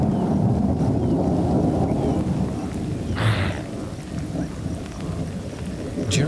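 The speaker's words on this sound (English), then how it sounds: "complete with summer rains." Heavy summer thunderstorm on the African savannah: steady loud rain roar with a low rumble of thunder swelling midway, continuous throughout with no voices.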